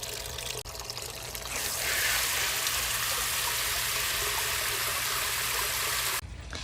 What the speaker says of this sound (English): I want to go ahead and get some water added to my little fish pond here that I have.